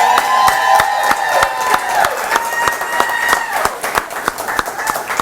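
Sparse claps from an audience at a college football recruiting Declaration Day event, sharp hand strikes repeating in an irregular rhythm while voices and tonal sound continue in the background.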